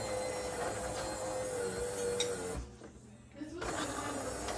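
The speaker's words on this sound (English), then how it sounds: "Sounded like it was grinding coffee." A Jura ENA 4 coffee and espresso machine grinding coffee with a steady, close mechanical whirring drone that drops away for about a second before resuming.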